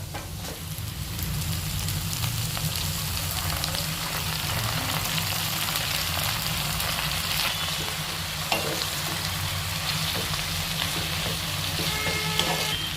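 Drained jute leaves frying with onion and garlic for a dal, a dense, continuous sizzle with steady stirring clatter close by, running without pause and with no talk.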